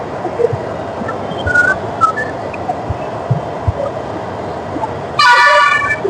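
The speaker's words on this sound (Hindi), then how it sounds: "और इसकी हॉर्न आपको सुनाई दे ही रही है।" A Bhopal metro train sounds a single loud horn blast near the end, after a stretch of station background with pigeons cooing and faint clatter.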